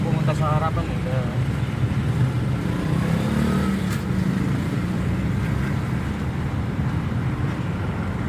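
A motorcycle cuts through road traffic in Porac, Pampanga, its engine buzz blending into a steady wash of vehicle noise while people talk over it.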